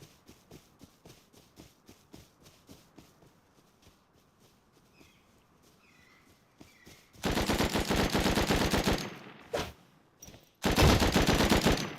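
Automatic gunfire from the video game Rust Console bursts out loud and close in two long rapid volleys, following several seconds of quiet footsteps and faint movement.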